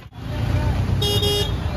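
Heavy road traffic on a congested street in Darbhanga, with engines rumbling continuously and a sharp car horn tooting midway, close by and loud.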